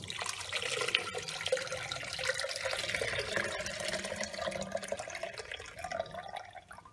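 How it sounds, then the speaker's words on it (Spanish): Water from soaking chipotle chiles poured into a blender, a continuous close splashing trickle that runs steadily for several seconds and fades slightly at the end. "vamos a empezar a agregar a la licuadora"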